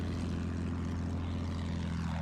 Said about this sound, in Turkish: Hiç bombardıman uçağına şimdi takılmayalım